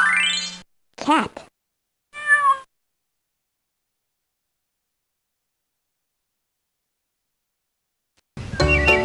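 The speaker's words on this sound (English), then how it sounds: "Cat." A cartoon cat meows in the 1995 Fisher-Price Sing-Alongs: Barnyard Rhythm & Moos PC game, giving a few short close meows in quick succession, then silence before another brief burst of game sound.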